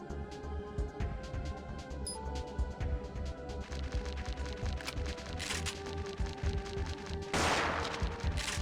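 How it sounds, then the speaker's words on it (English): Shotgun blasts ring out in Parasite Eve II, a rapid irregular string of punchy shots mixed with clattering game effects, fairly close and steady, then a louder hissing burst near the end. "Man, the spread of this shotgun kind of sucks, actually."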